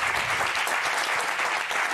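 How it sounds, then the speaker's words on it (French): Steady applause from a television studio audience, dense and continuous, loud and close throughout. "On peut l'applaudir"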